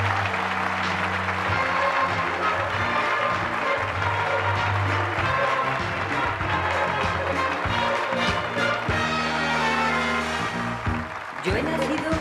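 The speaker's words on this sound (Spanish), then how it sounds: "sus aplausos me dan vida" A theatre audience gives a performer loud sustained applause, dense clapping that fills the whole stretch, mixed with music and some voices underneath before fading slightly near the end.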